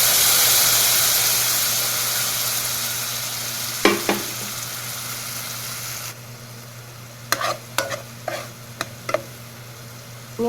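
A flour and butter roux being stirred as it thickens in a pot, with a steady sizzling hiss over a low hum, then a series of sharp scraping and tapping strokes from the spoon, close and moderate in volume.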